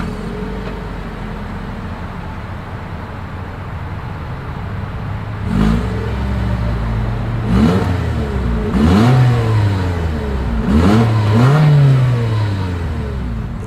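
A Toyota Corolla Cross 2023 SUV engine idles steadily, then revs up sharply several times, the exhaust note rising and falling with each throttle blip, close and loud.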